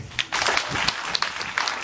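A crowd claps steadily at a church service, a dense burst of applause that starts after a brief pause and continues throughout.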